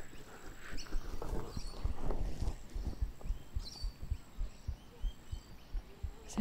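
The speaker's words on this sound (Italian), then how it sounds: "Senti il battito del mio cuore." A human heartbeat picked up close up through a binaural microphone, a soft rhythmic low thumping that repeats steadily for several seconds over a muffled hum, with no voice.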